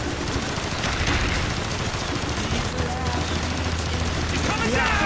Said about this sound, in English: Mason, fire your main gun!